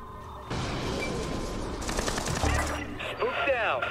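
Gunfire in the video game Splinter Cell Blacklist rattles in rapid bursts over a dense game soundscape, with sustained automatic fire, mixed with voices and electronic effects.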